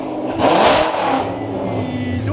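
Ford GT with straight-piped exhaust and a supercharger revving hard, a loud close roar that surges and then holds with a whining edge, no talking.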